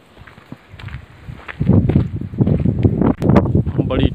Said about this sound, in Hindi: बड़ी ठंडी ठंडी हवा चल रही है